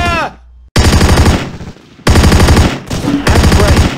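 Loud machine gun fire in the wartime video game Close Combat, coming in long rapid bursts broken by short pauses. The shots are sharp and close, with no speech over them.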